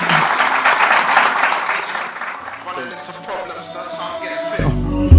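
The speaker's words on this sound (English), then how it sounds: "That deserves a round of applause, by the way." Applause from a gathered crowd at a Guild House event fills the first half, fading into music with a beat that rises and thumps louder near the end.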